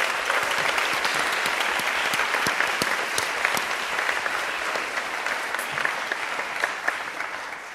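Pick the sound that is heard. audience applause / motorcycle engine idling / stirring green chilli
audience applause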